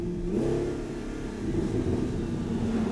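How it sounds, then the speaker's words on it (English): An Audi R8 twin-turbo widebody revs up, its engine note rising into a rumbling whir of turbo spool from the exhaust, heard close and steady for a few seconds with no talking. "You definitely hear a lot of turbo spool out the exhaust."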